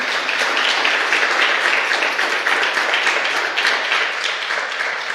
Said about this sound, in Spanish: ¿Por qué no le das un aplauso fuerte a Dios?